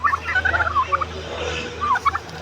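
Turkeys gobble in a farmyard among ducks and chickens, with several bursts of gobbling in quick succession, fairly close and loud, over steady low background noise.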